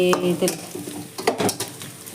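Onions fry in a pan with a soft sizzle under quick stirring scrapes and light clinks of a utensil against the pan, close and brief.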